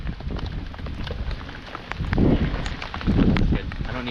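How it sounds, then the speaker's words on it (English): Rain sets in over a remote Arctic river during a canoe trip, a steady close patter with swelling gusts of heavier drumming. It sounds as if it strikes gear or a hood near the recorder. "The rain has finally hit."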